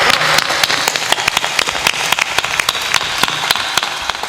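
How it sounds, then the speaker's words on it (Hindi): A crowd claps at a Hindi spiritual discourse, a sustained rattling patter of many hands with sharper individual claps standing out throughout, fairly loud and steady with no talk over it. "ताली बजाओ"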